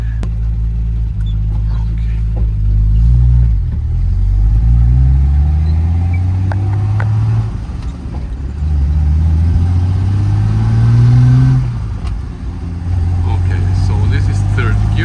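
A car drives while its overdrive solenoid is being tested. The close engine rumble climbs in pitch through repeated acceleration sweeps, with dips between gear changes.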